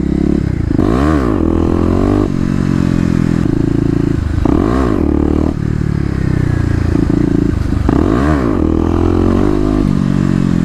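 Kawasaki KLX250 dirt bike ridden hard for wheelies, engine revving up sharply three times at even intervals with rising and falling pitch, loud and close, rumbling between bursts.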